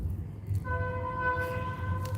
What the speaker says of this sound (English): Y'all heard that train?